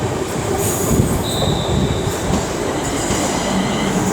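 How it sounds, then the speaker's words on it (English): London Northwestern Railway unit 35239 on a service at London Euston rumbles loudly and continuously nearby, with wheel squeal and a thin high whine over the steady rolling noise. "this will be the 1524 London Northwestern Railway service to Tring"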